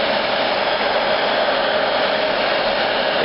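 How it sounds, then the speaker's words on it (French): A hot-air gun blows in a constant, loud, close whoosh while it heats the crankcase of an engine, alone with no talk. "Et je chauffe le carter. Juste le carter."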